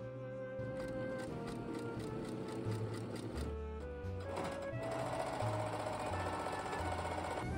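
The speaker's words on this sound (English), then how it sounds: "I just used my sewing machine to kind of baste the zipper on with a temporary stitch" A sewing machine runs steadily, basting a zipper with a temporary stitch, its needle thumping in a fast even rhythm, with brief changes in speed and a continuous motor hum.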